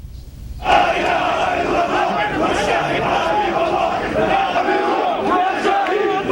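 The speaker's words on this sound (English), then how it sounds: "Crowds are chanting for revenge for the death." A large crowd in Jordan chants for revenge, a loud, sustained mass of voices that begins suddenly and keeps going, rising and falling in rhythm.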